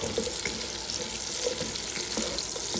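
Carrots and garlic stir-fried together in a pan, giving a steady close sizzle with soft scraping and stirring movements throughout and no voices.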